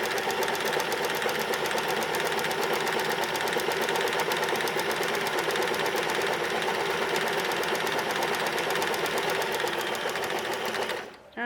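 Sewing machine running steadily in a zigzag stitch along a fabric edge to overcast it, a continuous fast mechanical whir that stops abruptly at the end; close and loud, no talk.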